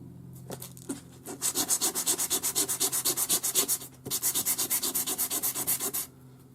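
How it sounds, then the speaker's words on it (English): Hand sanding the edge of a metal dome ring, a rapid rhythmic run of scratchy back-and-forth strokes in two bursts with a short pause between, close and alone. "sand it back until you can see a nice dull edge all the way around"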